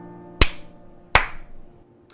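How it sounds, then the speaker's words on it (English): Two sharp hand claps land right on a streamer's microphone about 0.7 seconds apart, each a loud, close, percussive smack with a quick decay, and no talking in between. "I'm gonna try clapping one more time here."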